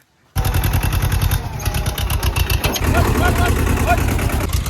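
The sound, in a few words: tractor engine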